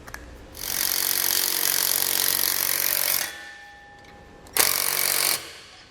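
A power tool rattles in two bursts, a long one then a short one, while tightening bolts on TorkLift StableLoad lower overload suspension springs, loud and close with a quiet pause between.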